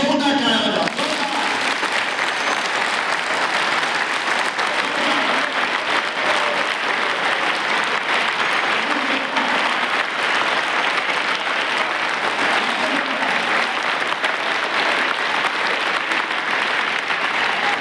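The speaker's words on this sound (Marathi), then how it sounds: "आईसाठी जोरदार टाळ्या" A crowd of students gives loud, sustained applause for their mothers at a Jawahar Navodaya Vidyalaya school event in Shegaon, a dense, unbroken roar of clapping with voices mixed in.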